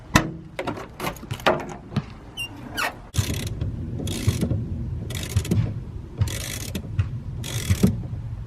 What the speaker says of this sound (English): let's pop the trunk and disconnect the battery.